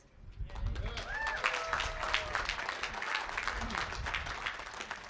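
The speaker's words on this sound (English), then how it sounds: "How about another round of applause for Councilor Pena and our board of director" An audience at the Route 66 Visitor Center ribbon-cutting celebration breaks into applause, a crowd clapping steadily with cheers and voices mixed in, lasting several seconds at a moderate distance.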